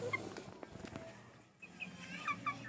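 Rhode Island Red chickens in a free-range flock cluck softly at close range in a few short, scattered calls over faint background noise, with a brief quiet gap partway through.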